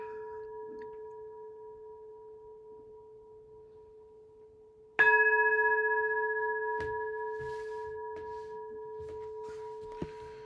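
A meditation bell is struck once, ringing out clearly and then decaying slowly over a faint lingering tone from an earlier strike.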